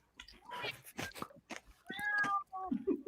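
A pet cat meows several times indoors, the calls close and fairly clear, with people talking around and between them.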